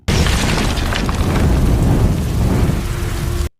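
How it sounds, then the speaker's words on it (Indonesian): A grenade blast in an action film, a loud sudden boom that bursts in at full strength and then rolls on as a dense, roaring rumble for a few seconds before cutting off abruptly. "kemudian melepaskan sebuah bom granat yang membuat beberapa pasukannya tewas"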